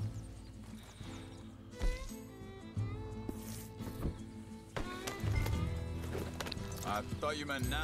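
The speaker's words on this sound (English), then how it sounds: "Whoa! Just get back on the horse, Arthur." Horse hooves clop along amid swelling game music and speech in Red Dead Redemption 2, with a neigh breaking in partway through.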